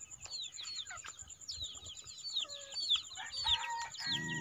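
Chickens on a poultry farm cluck and squawk in quick overlapping bursts, fairly close but quiet, with a rooster-like call among them and no talking.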